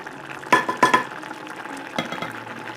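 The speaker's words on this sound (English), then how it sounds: "I have to now boil it down a little bit farther" A pot of rice with snails and green onions cooks on the stove, with bubbling and sizzling broken by a few close, sharp utensil scrapes and knocks against the pot.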